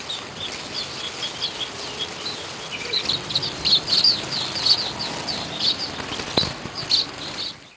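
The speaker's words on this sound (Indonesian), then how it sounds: "acara pelepasan burung oleh pendiri Bali TV Satria Narada" Birds are released at an anniversary ceremony for Bali TV, and their wings flutter in a flurry of soft, repeated flapping against steady outdoor background noise, with chirps and an insect-like buzz mixed in.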